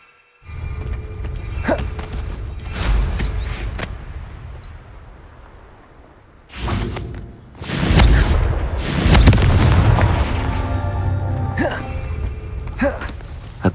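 Repeated Confringo blasting-spell explosions from the Hogwarts Legacy video game, loud booming bursts recurring through the stretch, some sharp and some rolling, set over continuous game ambience.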